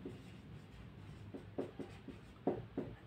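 Chalk or marker scratches on a classroom board during a thermodynamics lecture, a few short faint strokes in irregular bursts, quiet and close with no talking.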